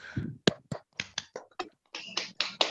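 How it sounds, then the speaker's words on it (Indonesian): A class of students clapping hands in a classroom, a loose run of separate claps at close range, uneven in rhythm and loudness. "Tepuk tangannya mana?"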